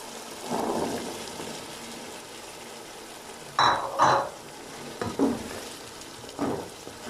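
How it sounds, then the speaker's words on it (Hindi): Chickpeas stirred and fried in masala in a pan, a low background sizzle broken by several scraping, clattering stirring strokes at uneven intervals, without speech. "चनों को मैंने मसाले में अच्छी तरह भून लिया है।"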